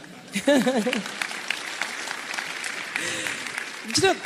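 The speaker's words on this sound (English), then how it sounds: "if you want to clap, clap with full energy" A crowd applauds steadily for several seconds, with a voice rising briefly over the clapping at the start and again near the end.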